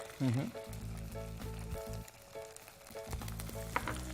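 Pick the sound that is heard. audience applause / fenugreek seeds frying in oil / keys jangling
fenugreek seeds frying in oil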